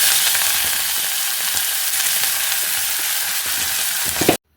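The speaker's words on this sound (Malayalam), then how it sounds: "ഇതിലേക്ക് നമുക്ക് അരിഞ്ഞു വെച്ചിരിക്കുന്ന ചീര ചേർത്ത് കൊടുക്കാം" Chopped spinach sautéing in a pan with dried red chillies, a steady loud sizzle and crackle of frying that runs unbroken close up, with faint stirring scrapes.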